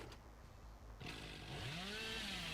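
The Hillbilly's chainsaw in a video game starts up abruptly, then a loud, close, continuous revving buzz rises and whines in pitch as it runs.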